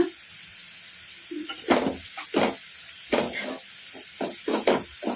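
Chopped onions fry in a pan on a medium flame, giving a steady close hiss broken by repeated short scraping knocks from stirring.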